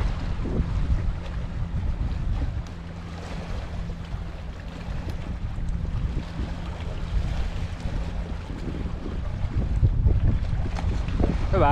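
Steady, loud wind roaring outdoors on a mountain-bike trail, buffeting the microphone with a continuous low rumble for the whole stretch.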